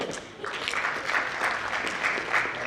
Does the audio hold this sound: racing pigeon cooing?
no